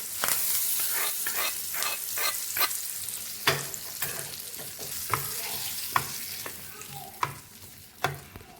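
Semolina and yogurt batter seasoned with curry leaves and Kashmiri chili powder sizzles in a hot pan, a close crackling hiss with repeated sharp taps and scrapes from a utensil.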